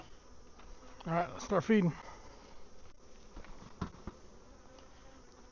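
Honey bees buzz around a hive, a faint steady drone under a person speaking briefly nearby, with a few soft handling noises.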